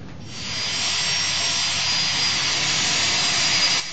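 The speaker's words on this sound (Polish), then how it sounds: "Niepozorny samolot szwedzkich sił powietrznych wylądował na wrocławskim lotnisku" A Swedish Air Force plane landing at Wrocław airport gives a steady, loud jet-engine roar with a bright whine, rising in over the first half second and holding evenly, with no voices.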